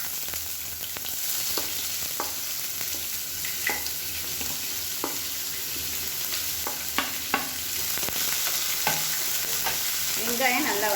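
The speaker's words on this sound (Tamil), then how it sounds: "வெங்காயம் நல்லா வதக்கிக்கலாம்" Finely chopped onions sizzle and sputter in hot oil with fennel seeds and curry leaves, a steady frying hiss with intermittent stirring clicks and scrapes from a spoon, close and continuous, with no talking.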